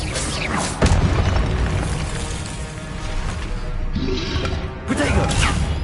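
Booming magical blasts from the Confringo spell in Hogwarts Legacy on PS5 crash through a noisy duel, with a loud hit near the start and another toward the end over constant game sound.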